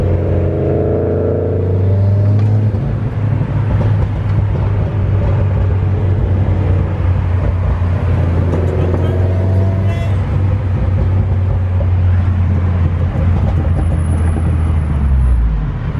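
A Subaru WRX with a burble tune rumbles loudly nearby in a steady low exhaust drone with slight rises in pitch, without distinct pops standing out.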